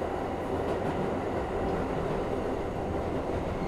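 A New York City subway N train rumbles past close by, a steady, loud roar of wheels and car noise that continues without break, with no voices.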